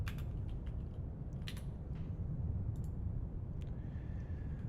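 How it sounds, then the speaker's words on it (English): Computer mouse clicks come in short bursts while ads are being clicked during a live flight-and-show stream, sharp light ticks sitting over a steady low background hum. "I'm clicking on ads."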